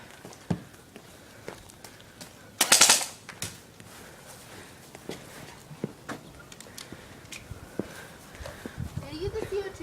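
Airsoft guns fire during an outdoor airsoft war game: one sharp, loud burst of rapid shots, then scattered quieter pops and footsteps, with players' voices around it.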